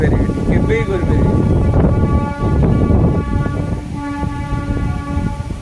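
Train rolling along a railway line, a continuous close rumble and clatter of wagons with a brief horn tone early on and a sustained hum toward the end.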